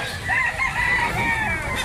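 A rooster crows loudly and close by at a chicken market in Lipa, one long drawn-out call over a noisy outdoor background.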